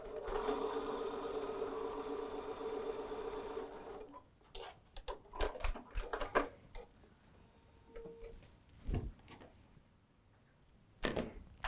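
A sewing machine stitches a quarter-inch seam on fabric for a table runner, a steady close mechanical whirr for about four seconds, then stops, followed by scattered light clicks and handling noises.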